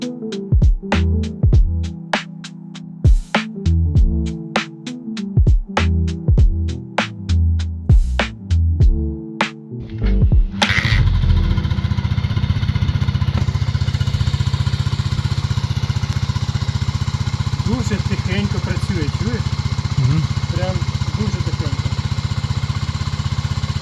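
A Suzuki Djebel 200 motorcycle sputters through a series of sharp, uneven starting attempts before catching, then settles into a steady, fairly quiet idle that holds close by for the rest of the time.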